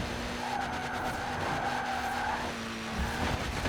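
A 600hp bubble car in Forza Horizon 4, with tires skidding and squealing over a steady engine drone, a rising and falling screech running through the middle of the clip, no talk.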